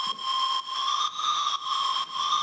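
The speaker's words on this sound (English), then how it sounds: "I solo the reverb for you." Soloed plate reverb on a synth lead: a bright, sustained tonal wash that briefly dips in a steady rhythm, roughly twice per second, with no voices.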